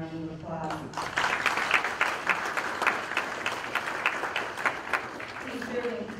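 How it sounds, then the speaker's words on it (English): An audience claps in a hall as a round of applause for an absent honoree, steady and full through the middle. A speaker's voice is heard at the start and end. "So please, in absentia, give him a round of applause."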